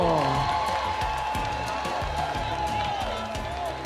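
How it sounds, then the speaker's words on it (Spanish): Crowd cheering and clapping for the carnival queen at an outdoor carnival event, steady and fairly distant, with shouts and a tonal whistle or voices riding over the noisy applause. "Fuerte aplauso para Jaftini Manuela, Reina de Tumba 2025"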